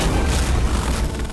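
Gunshot in a Hindi TV crime drama scene, a loud booming blast with a dense, rumbling tail filling the short moment, no speech over it.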